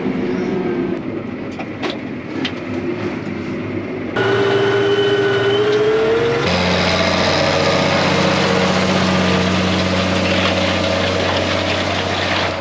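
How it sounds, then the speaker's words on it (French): A farm tractor, a 630, cranks and starts up during a maize harvest, then settles into a loud, steady, close diesel idle whose pitch shifts as it revs up and holds a deep, even drone. "j'ai plus qu'à monter dans le tracteur, le démarrer et aller semer."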